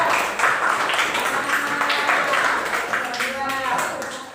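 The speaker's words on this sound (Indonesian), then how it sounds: "tepuk tangan untuk kelompok 2" Pupils in a classroom clap for a student group, a busy patter of hands mixed with children's voices and chatter, steady throughout and easing off near the end.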